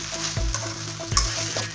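Chicken fried rice stir-fried in a pan, heard close: a steady sizzle with scraping stirs about every half second or so.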